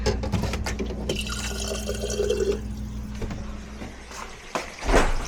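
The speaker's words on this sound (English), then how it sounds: "So I will add a little water" Water poured from a bottle into a pot of pasta sauce, a close gurgling stream with drips and splashes that ends in a brief rattle.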